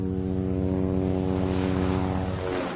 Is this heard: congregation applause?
no